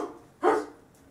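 A person's voice imitates a dog barking, giving one short, loud bark-like yelp close up after a quieter lead-in, with no other talk.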